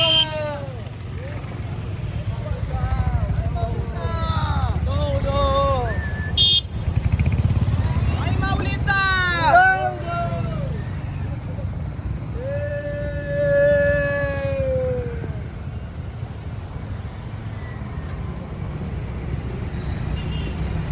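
Motorcycles in the 2026 Koproli to Karla bike rally, a procession celebrating the goddess Aai Mauli, rumble steadily and loudly throughout, with voices and shouting carrying over the engine noise.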